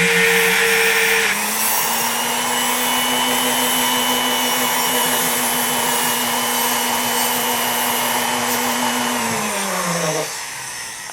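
A rotary handpiece spins up to a steady high whine while sharpening a solder pick to a point, holding a constant pitch for several seconds before winding down at the end, with no talking.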